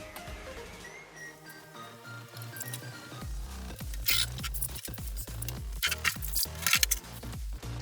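Wet fursuit parts are squeezed and wrung out by hand in a bath or shower, giving a series of close, soft squishing and spattering pulses with water drips, growing busier and louder toward the end.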